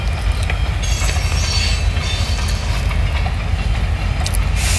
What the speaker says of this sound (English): Norfolk Southern train on one of the Norfolk Southern lines in Dillonville, Ohio. It's like a grain local.